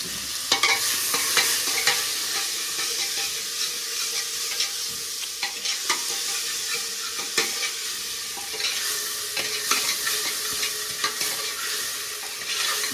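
Mustard seeds sizzle and crackle in hot oil while khichdi is tempered, with a continuous frying hiss, scattered pops and intermittent scraping stirs over several seconds.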